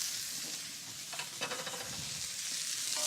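Carrots, red peppers and shiitake mushrooms stir-fry in a hot pan, a soft continuous sizzle and hiss with a few scraping stirring strokes in the middle, fairly quiet and with no talk.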